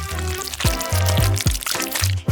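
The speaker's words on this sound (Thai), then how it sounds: "จากนั้นเทน้ำมันเล็กน้อยใส่กระทะ" Cooking oil is poured into a frying pan up close in a few short gurgling bursts, clear and fairly loud, with no talking.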